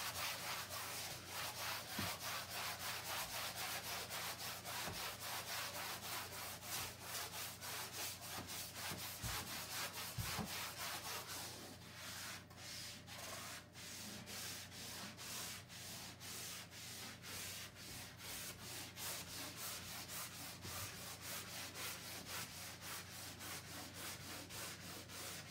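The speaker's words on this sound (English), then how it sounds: "take the edge of your trowel and scratch it with the corner so the mortar has something to stick to" A trowel corner scratches across woodstove tile in a continuous, rapid rasping stroke, close and fairly quiet, with the rhythmic scraping growing more distinct partway through.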